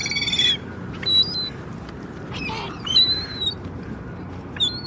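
Seagulls and pigeons calling while being fed raisins outdoors, with several sharp gull squawks and cries scattered over a few seconds against a steady background hiss.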